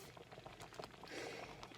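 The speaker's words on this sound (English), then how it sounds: "I'm gonna boil it down a little more" Swiss potato soup bubbles in a pot with a soft, steady patter of small pops and a quiet simmering hiss, heard close up and alone.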